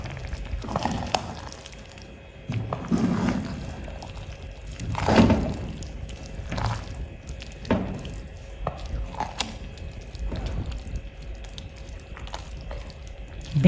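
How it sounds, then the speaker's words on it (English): A pot of porridge beans with spinach is stirred, giving a series of soft, wet, thick scraping and squelching strokes at a close range, with brief pauses between them and no talking. "I will stir to combine once more."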